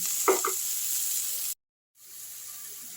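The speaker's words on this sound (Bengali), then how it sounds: "এটা আরেকটু মশলাটা আমি কষে নিচ্ছি" Masala sizzles for a lentil fritter curry gravy, a steady hiss with a brief clatter of stirring, then a sudden cut to silence before a quieter sizzle resumes.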